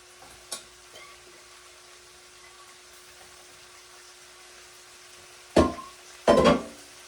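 Sitaw (string beans) tipped into a hot pan, bursting into two loud, close sizzles while being stirred, after a quiet stretch with a low steady hum.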